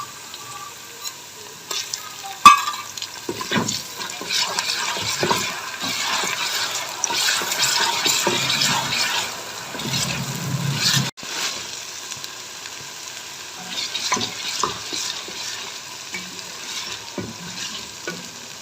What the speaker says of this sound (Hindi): यहाँ पर मैंने लहसुन को भी शामिल करके 3 मिनट के लिए भून लिया है।